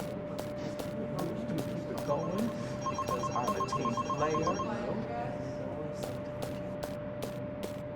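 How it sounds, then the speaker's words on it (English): In an office simulation video game, a telephone rings in repeated bursts over a steady background hum, with muffled voices murmuring nearby. "a phone ringing"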